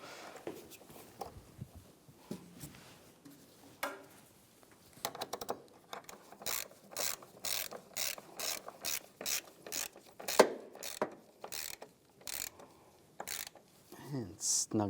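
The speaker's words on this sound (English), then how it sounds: "take the hold down, get that lined up, and tighten the bolt down" A ratchet tightens the battery hold-down bolt on a Ram 1500 with rapid, evenly spaced clicking bursts that grow steadier and louder as the bolt snugs down, heard close up after some quieter handling noises.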